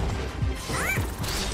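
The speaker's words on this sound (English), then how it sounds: "Well, I just smashed that hammer." A hammer smashed in the video game Astro Bot: repeated thudding, crashing game hits with a brief rising chirp in the middle, busy and close, no talk.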